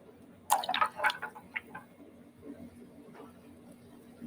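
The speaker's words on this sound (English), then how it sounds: "Add a little water to it." Water splashes and drips onto stiff clay being centred on a pottery wheel, a burst of wet slaps and trickles up close, then quieter squishing as the wheel turns.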